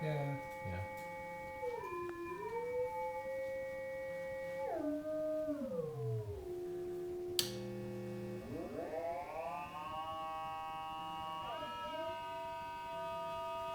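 A synthesized tone with metallic ring-modulated overtones and feedback sweeps and glides in pitch, swooping down, then jumping and bending back up.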